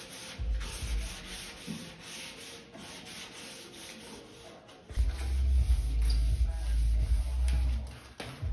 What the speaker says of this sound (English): right now we are getting all the sanding, the wet sanding, so we can paint it on the weekend